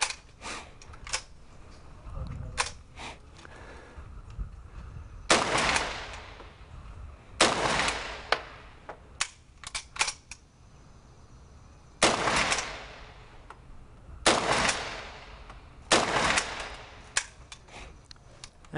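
Civil War era Henry repeating rifle fired outdoors in a series of sharp shots spaced a few seconds apart, each loud crack trailing into a brief echo over a quiet background.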